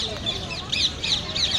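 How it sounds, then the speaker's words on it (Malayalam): A flock of parrots calling in Rajasthan, several shrill squawks in bursts over a faint background, with a voice talking softly underneath. "അത് മുഴുവൻ തത്തയാണ് കേട്ടോ. നല്ല രസമുണ്ട്. കുറേ തത്തകളുണ്ട് ഇവിടെ."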